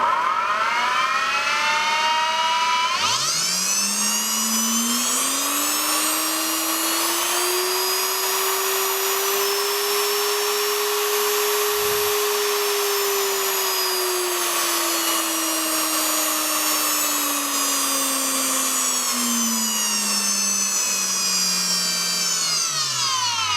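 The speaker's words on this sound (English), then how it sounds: "now I can control the motor speed of this old power drill" An old electric drill motor, speed-controlled by an Arduino-based controller, whines up to speed, holds a high steady buzzing pitch, then gradually slows down, loud and close throughout.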